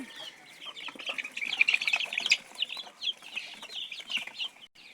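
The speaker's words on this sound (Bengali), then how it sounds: "আমাদের পিওর দেশি মুরগির বেবিগুলা" Pure native chicken chicks cheep and cluck in a continuous high-pitched chorus of overlapping peeps, close by and moderately loud, with no voices.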